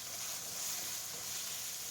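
Ground hamburger and onion frying in a pan, a steady close hiss and sizzle with no talking.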